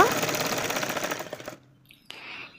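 A sewing machine stitches lace onto a dress in one close, busy run of rapid needle chatter that stops abruptly, leaving quiet handling and a brief voice at the end.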